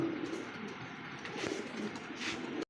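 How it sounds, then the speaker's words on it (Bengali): Racer pigeons cooing softly in a loft, a steady low murmur of coos with faint background hum, no talking. "দেখতে পাচ্ছেন চমৎকার একটা রেসার কবো"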